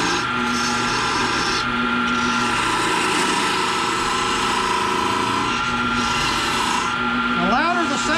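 A dull hand tool carves a small wooden snowman with continuous rasping, scraping strokes whose loudness swells and eases with the pressure, close and steady with brief pauses and no talking.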